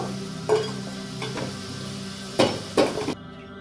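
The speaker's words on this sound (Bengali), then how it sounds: "এবার ওটা তেলের মধ্যে কালো জিরে দিলাম" Nigella seeds crackle in hot oil in a pan where potatoes were just fried for a bean dish, a steady close sizzle with a few sharper bursts and stirring scrapes, no talking.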